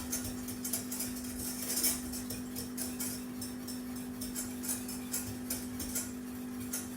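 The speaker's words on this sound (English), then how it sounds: "I'm going to stir continually until it thickens" A spoon stirs lemon meringue filling in a pan over low heat, giving soft, steady scraping and light clinks against the pan, repeated continuously over a low hum with no talking.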